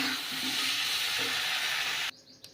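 Water hits a hot pan of frying spices (cumin, coriander, ginger, mustard, bay leaf, dried chilli) with potatoes and Malabar spinach, making a loud, steady hiss that cuts off abruptly near the end, with no voices.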